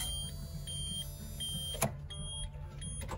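A diesel bus that won't crank gives faint repeated electronic dashboard beeps and tones over a low engine-bay hum, with a sharp click partway through.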